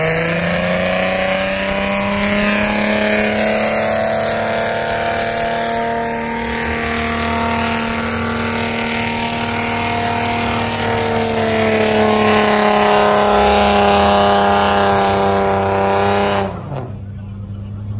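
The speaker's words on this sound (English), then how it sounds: "Okay, V6 Mustang." A V6 Ford Mustang engine droning loudly and steadily nearby, its pitch holding then rising slightly before dropping off near the end, with faint voices in the background.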